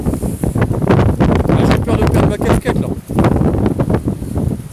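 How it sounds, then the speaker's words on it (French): Strong wind buffets the microphone outdoors on a fishing outing, loud roaring gusts that surge and drop in uneven bursts, briefly easing around the middle before picking up again. "que là il y a du vent de ouf."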